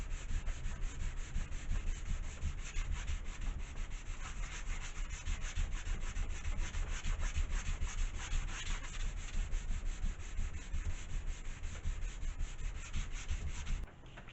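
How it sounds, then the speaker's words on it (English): A 180 grit sanding block rubs back and forth across a wooden model aircraft wing, giving continuous close, rhythmic scratchy strokes that carry on steadily for about fourteen seconds without speech. "I'm using the 180 grit side of this sanding block."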